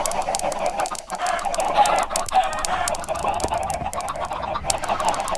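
A coop packed with chickens fills the air with dense, continuous clucking and squawking from many birds at once. The sound is loud and close, with no speech.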